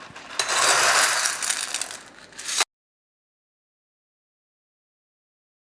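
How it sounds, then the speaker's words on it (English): Leca clay pebbles pour into a 14 cm plant pot in a dense, rattling rush of clicks for about two and a half seconds, fairly loud and close, then stop abruptly into silence. "put leca 1/3 of the way up"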